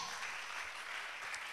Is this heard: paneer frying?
no